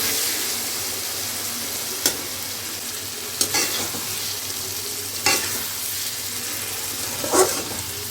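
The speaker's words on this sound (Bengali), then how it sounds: "একটু কাশ্মীরি লঙ্কার গুঁড়ো দিয়ে দিয়েছি, ভালো করে সাঁতলে তারপর মাছটা দেবো।" Kashmiri chili powder sautéing in hot oil in a pan for a Bengali Bombay duck curry, a steady close sizzle with a few sharp stirring scrapes at intervals, no voices.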